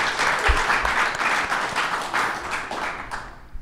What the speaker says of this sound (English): let's give them a round of applause for being here with us tonight